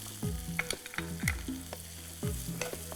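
Chopped onion fries in a pan for a mushroom palak kofta curry, with a close sizzle and rhythmic ringing scrapes of a spatula against the metal, about two strokes a second.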